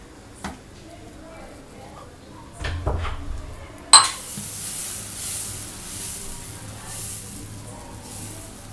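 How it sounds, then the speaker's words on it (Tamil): Pesarattu batter goes onto a hot dosa griddle: a few soft clinks give way to a sudden sharp hiss that settles into a steady sizzle, with a voice speaking in the background. "இப்போ இதில் அடை ஊற்ற போகிறேன்."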